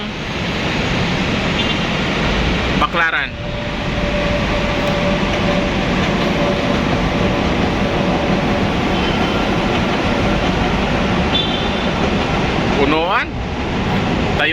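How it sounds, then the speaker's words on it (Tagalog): A northbound MRT metro train rumbles past in a continuous loud roar, with brief squeals and clatter as it goes by and no talking. "Ayan, may dumaan na MRT oh."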